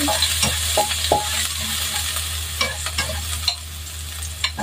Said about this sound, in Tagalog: Igisa natin yung bawang.